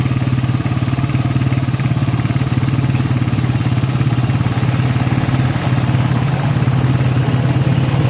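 Honda CG125 motorcycle engine, started after sitting unused for six months, running at a steady idle with rapid even firing pulses and a mechanical clatter, close and loud without talk.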